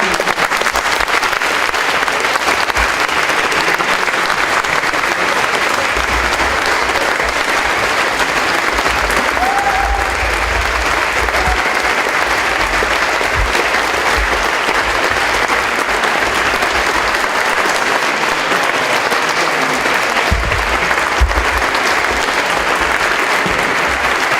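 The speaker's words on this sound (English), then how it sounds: "I refuse to interrupt the applause because they deserve every moment of it" Sustained, loud applause from a large audience after a talk, a dense, even roar of clapping that carries on without a break for over twenty seconds.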